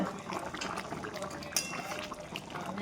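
Chicken rezala simmering in a pan, with the oil separating from the gravy, makes a soft, steady bubbling and sizzling hiss throughout, faint and close.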